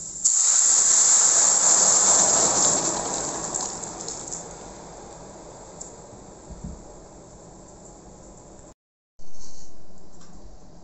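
Chettinad cauliflower soup is poured into a hot tempering of fried curry leaves, setting off a loud, bursting sizzle and hiss that slowly fades as the liquid settles, cut briefly by a short silence before the sizzle returns.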